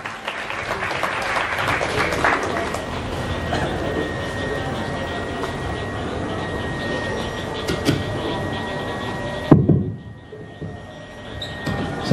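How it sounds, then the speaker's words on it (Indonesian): A crowd claps steadily for about nine and a half seconds to welcome Anies Baswedan onto the stage at an evening event in Jogja, with a faint tone running underneath, before the clapping cuts off abruptly. "beri tepuk tangan kepada yang terhormat Bapak Anies"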